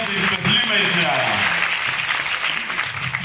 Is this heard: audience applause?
yes